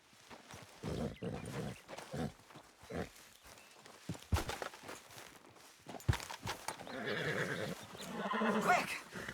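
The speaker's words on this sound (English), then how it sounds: "Get me off this horse!" In-game horse sounds from Red Dead Redemption II: a horse whinnies and snorts amid hoof clip-clops and scuffling steps, fairly quiet and uneven, with a voice speaking now and then.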